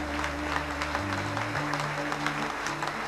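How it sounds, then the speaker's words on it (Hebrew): An audience applauds for Eli Shasho, head of the Bnei Yehuda youth department, with steady, full clapping and a low musical tone held underneath. "מחיאות כפיים לאלי ששו, קבלו אותו!"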